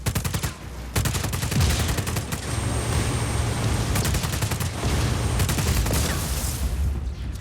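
Video game gunfire aimed at a generator, rapid automatic bursts crackling in repeated volleys with brief gaps between them, loud and close over a low rumbling background, no talking.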